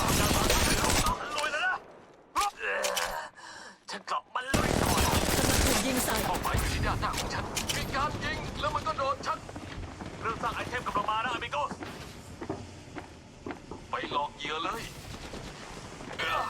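Enemy team gunfire in Apex Legends Mobile, loud bursts of rapid shots in the opening seconds, then repeated cracks and volleys continuing under game announcer voice lines and talk.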